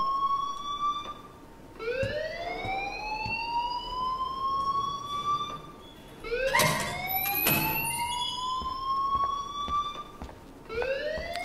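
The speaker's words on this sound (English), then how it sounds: "please turn off that alarm since that's your job" A rising and falling electronic alarm siren from the video game Life Is Strange wails in repeated loud sweeps, steady and alone, with brief breaks between cycles.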